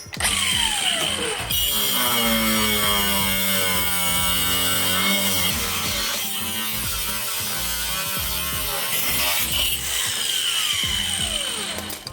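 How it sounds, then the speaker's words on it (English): Power tool cutting off a bolt on a pickup truck, a loud continuous whine with shifting pitch that starts abruptly, runs steadily with buzzing overtones and eases off near the end, close and without talk. "But for now, I'm gonna cut that bolt off."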